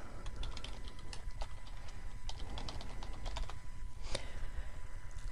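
Keystrokes clatter on a computer keyboard while text is entered into a form field in Adobe Acrobat Pro, a steady run of light, close clicks over a faint hum with no talking.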